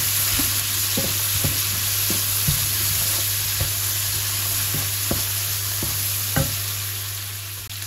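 Chicken with garlic and cinnamon stirred in a frying pan, a steady sizzle under repeated scraping and tapping strokes of a utensil against the pan, close and fairly loud, with no talking.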